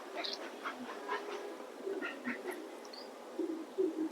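Racing pigeons held at a loft, giving soft low coos and murmurs with a few brighter calls, close and intermittent over a quiet indoor background.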